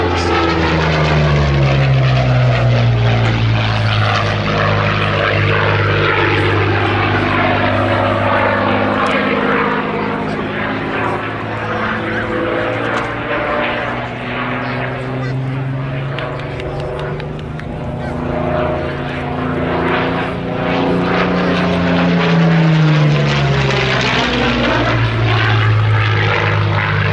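A Curtiss P-40C Warhawk, G-CIIO, flies at the Duxford Battle of Britain Airshow with a loud, sustained propeller engine drone whose pitch swells and sweeps as it passes and banks around, while a commentator talks over it.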